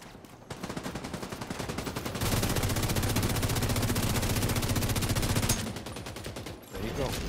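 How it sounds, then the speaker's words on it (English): Rapid automatic gunfire from a sniper rifle in a video game, a sustained loud burst of repeated shots with rumbling low end, easing off near the end. "he got a sniper rifle, right, man."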